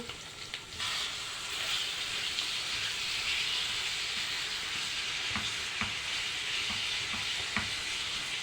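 Meat sizzling and frying in a pan for a simple Egyptian home-cooked lunch, a steady close hiss with occasional soft clicks and stirring taps, no voices.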